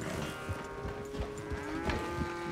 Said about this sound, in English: Cows, how are you?